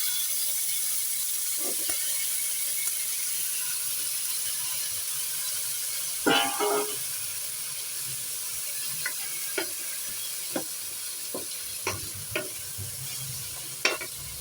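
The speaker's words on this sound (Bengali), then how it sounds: "এগুলো আমি একটু ভেজে নিচ্ছি" Ingredients for khichuri fry in a pan with a quiet, steady sizzle, broken by sharp scrapes and clinks of stirring at irregular intervals.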